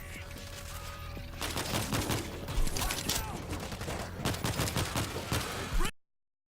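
Shooting at zombies in the video game World War Z: dense bursts of gunfire clatter over several seconds, growing heavier toward the end before cutting off abruptly.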